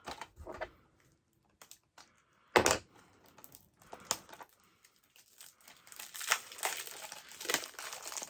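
Tight cellophane wrap being torn and peeled off a 4K Ultra HD Blu-ray case: scattered crinkles and sharp crackling tears, close but quiet, bunching into denser rustling toward the end.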